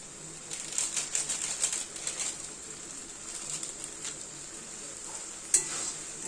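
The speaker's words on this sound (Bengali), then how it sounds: "ঘুগনি মশলা দিয়ে আবার ভালো করে কষাতে হবে এটা" Ghugni stir-frying with ghugni masala, a faint sizzle with soft scraping stirs near the start and one sharp clink later, quiet and without speech.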